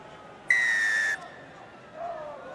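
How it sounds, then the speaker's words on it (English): A rugby referee's whistle, blown once to restart play for the second half of a Challenge Cup match between Ulster and Racing 92, gives a loud, sustained blast of about half a second over crowd murmur in the stadium. "Ben Breakspear blows his whistle, and Jack Murphy swings his right leg."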